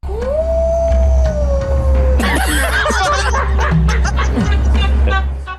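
A voice imitates a dinosaur howling at the moon with a long rising-then-falling wail, followed by a burst of overlapping laughter and chatter from several people.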